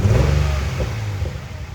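A Nissan 350Z with a freshly swapped engine cranks and revs, a loud close mid-pitched engine roar that rises briefly then settles into a rough idle with some clatter, no talking.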